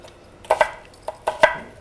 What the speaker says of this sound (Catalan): anem tallant la ceba